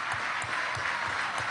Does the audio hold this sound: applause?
yes